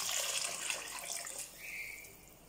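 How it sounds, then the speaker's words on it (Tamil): Water pours steadily and fairly close into a cooking pot, a continuous splashing rush that shifts slightly in pitch as it fills. "இப்போ வந்து நம்ம 2 பங்கு அளவுக்கு தண்ணி ஊற்றிக்கலாம்."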